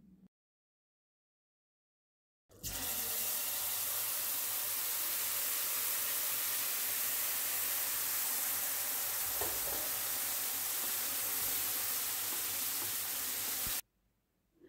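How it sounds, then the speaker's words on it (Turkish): Syrup poured little by little into hot tahini halva in a pan gives a loud, steady sizzling hiss that starts abruptly after a quiet moment, holds for about eleven seconds without talk, then cuts off. "Artık bu aşamadan sonra hazırlamış olduğum şerbetini azar azar dökeceğim."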